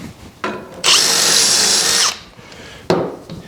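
A power drill bores through a wooden dresser rail in one loud, close burst of about a second, whining steadily, with brief clunks of handling before and after.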